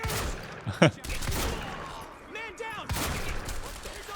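Gunfire in the Quantum Break video game, a burst of shots standing out near the start amid game effects and voices, followed by further clattering action.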